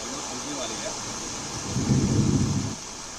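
Heavy rain falls in Delhi as a constant broadband hiss, while a deep roll of thunder swells and fades over about a second midway through.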